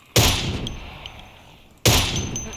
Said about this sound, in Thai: เอเคมันยิงใกล้เนาะ เอเคมันยิงไม่ไกลสู้โคผมไม่ได้วะ